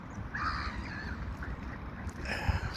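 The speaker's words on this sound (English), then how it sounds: "Look, see the seagulls coming down." Seagulls swoop down over a worm-strewn spot, giving harsh squawking calls in a few bursts at moderate distance, with steady outdoor wind and rumble underneath.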